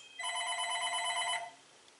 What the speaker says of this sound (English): you know the phone would ring